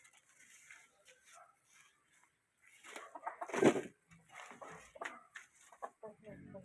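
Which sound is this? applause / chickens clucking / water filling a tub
chickens clucking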